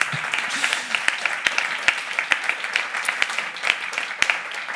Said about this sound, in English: I would like to ask an applause for the organizing team